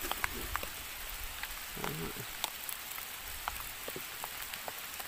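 Rain pattering steadily over a rubber tree plantation, a dense broadband hiss with scattered sharper drips close by, continuous and fairly soft throughout.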